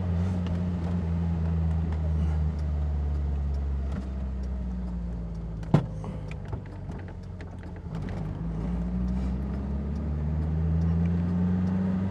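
A Renault Caravelle 1100S with its rear-mounted engine drives along at a gentle pace, a steady low engine drone rising and falling with gear changes and one sharp click midway, heard from inside the car.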